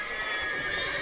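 Horse whinny from The Witcher 3, a short steady neigh over a dense, even wash of game ambience, fairly loud and continuous throughout.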